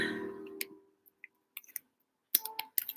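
Fingers type on a computer keyboard, a few scattered clicks and then a quick cluster of keystrokes close by, following a fading hum at the start.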